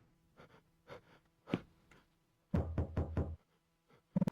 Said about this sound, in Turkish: Kapı çalıyor.